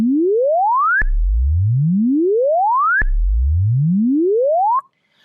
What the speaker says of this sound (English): We then have a reverse sawtooth wave,